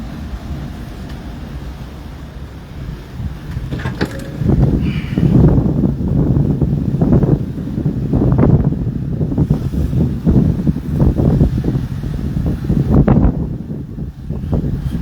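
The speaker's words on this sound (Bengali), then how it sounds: "সাগর এই মুহূর্তে অনেক উত্তাল, প্রচুর পরিমাণে বৃষ্টি হচ্ছে এবং বাতাস সব কিছু মিলে খুবই খারাপ অবস্থা।" Rough sea under strong wind and heavy rain, with a continuous loud roar of wind buffeting the microphone and surging waves rising and falling throughout, no voices.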